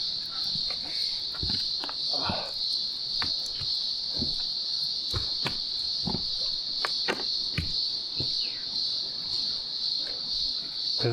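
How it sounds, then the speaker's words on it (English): Loud, constant high-pitched insect buzzing of cicadas fills the air of a rainforest in Morton National Park, with scattered footsteps and faint sounds underneath. "There's all the cicadas going absolutely"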